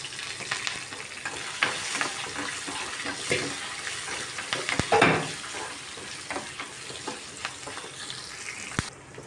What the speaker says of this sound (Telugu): అల్లం కూడా వేసేసుకుందాం.